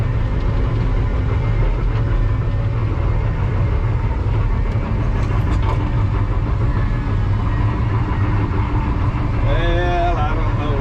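A skid steer mulching machine runs through brush with a loud, constant low engine roar and grinding rumble, a few higher squeals rising near the end.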